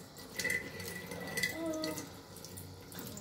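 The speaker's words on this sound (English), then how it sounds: "I can see the pump is working and it's sucking water from this." Water running and trickling as a small R385 6-12V water pump draws it in and pushes it through a pipe, a steady close-up flow with a faint, high pump whine and no talking.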